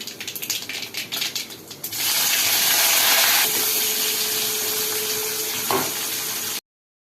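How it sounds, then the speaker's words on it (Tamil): Red chillies, curry leaves and onion tempering in hot oil for drumstick sambar, a loud steady sizzle that swells suddenly and then holds, with faint clatter before it starts. "அப்புறமா மூணு வரமிளகா கொஞ்சம் கருவேப்பிலை வெங்காயம் போட்டு தாளிச்சிக்கலாம்"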